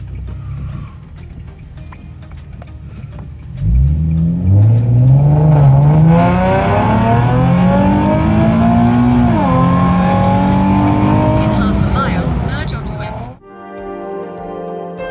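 A Nissan Pulsar GTiR engine revs hard and climbs through the gears merging onto the M4 motorway, loud and close, the pitch rising and falling with each shift before cutting off abruptly.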